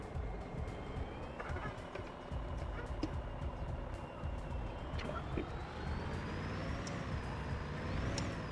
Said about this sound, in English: I was standing on the brake pedal with the Jake brake on